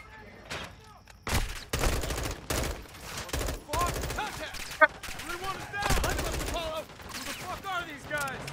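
Intense gunfire in Call of Duty: Modern Warfare 2, bursts of automatic fire and scattered loud shots with a sharp crack, mixed with voices talking amid the battle.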